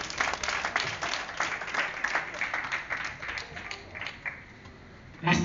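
An audience claps in a steady patter of many hands that gradually thins out and fades, then a sudden louder burst at the very end.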